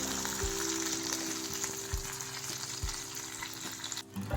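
Curry leaves and sesame seeds fry in hot oil for idli seasoning, giving a steady close sizzle with a few stirring knocks and a brief dip near the end.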